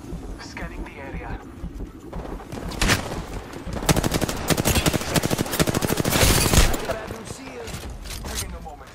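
Gunfire in Apex Legends on PS4: dense automatic bursts and rapid shots building to a loud sustained volley, mixed with in-game character voice lines.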